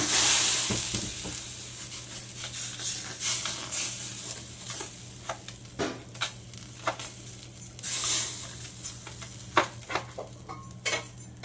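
A maize bhakri flatbread laid on a hot tava griddle, with a soft sizzle under repeated close taps and scrapes of a utensil against the metal griddle.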